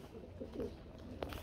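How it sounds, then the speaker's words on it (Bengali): A pair of blue Shirting pigeons coo softly, with a few low, throaty calls and small rustles at close range in a quiet setting. "খুব সুন্দর ব্লু কালারের মধ্যে এক জোড়া শার্টিং কবুতর রয়েছে"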